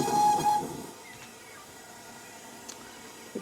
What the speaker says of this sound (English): we're going to do a quick toot on the whistle. This is the whistles for it.